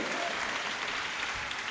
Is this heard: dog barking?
no